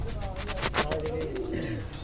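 Lahori Shirazi pigeons coo softly nearby, a low repeated throaty call heard over a person talking.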